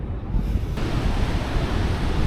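Continuous rushing surf of ocean waves on the seafront by the Hassan II Mosque in Casablanca, mixed with wind buffeting the microphone, no talking.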